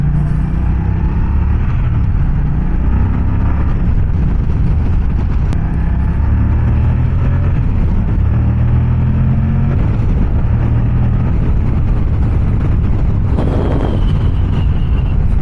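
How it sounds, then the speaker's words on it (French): A Moto Guzzi Stelvio motorcycle engine drones steadily while riding, a loud continuous low rumble with wind noise from a helmet-mounted microphone and no speech. "Mais cette moto est vachement bien."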